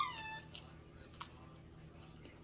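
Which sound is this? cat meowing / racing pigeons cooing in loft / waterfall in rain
cat meowing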